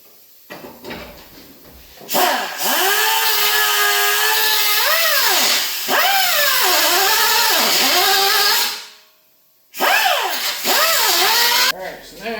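A power drill bores out the cowl of a Ford Fairlane, whining in long sustained runs with pitch rising and falling under load, close and loud, cut by a brief pause.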